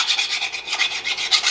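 A round file rasps through the rusty hole of a meat cleaver in steady, close back-and-forth strokes, each scrape rough and bright, with no voices.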